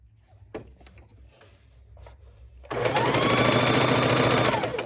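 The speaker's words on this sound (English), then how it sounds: "sewing 2 of the 4 patches together" A sewing machine starts up abruptly and runs in a fast, continuous chatter while chain stitching quilt patches together, loud and close after a few seconds of quiet handling noises.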